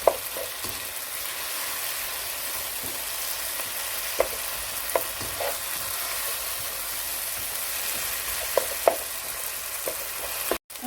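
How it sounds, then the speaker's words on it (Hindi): Tomatoes and onions being stir-fried over a medium-high flame for bhindi fry, giving a steady broad sizzle with scattered soft clicks and scrapes from stirring, close and continuous without talk. "अब देखें, हम मीडियम टू हाई फ्लेम पे इसको स्टर फ्राई कर रहे हैं, और टमाटर आप देख सकते हैं कि नरम हो रहे हैं।"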